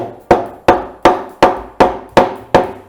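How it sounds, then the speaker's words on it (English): A hammer taps frets into a guitar fingerboard, with the neck held up by a scissor jack under the heel: seven sharp, even strikes at a steady rhythm, close and loud. "for hammering"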